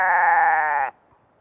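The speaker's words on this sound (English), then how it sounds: "Goats and sheep bleat." A single clear bleat from a goat or sheep, loud and close, a wavering nasal cry lasting under a second before falling silent.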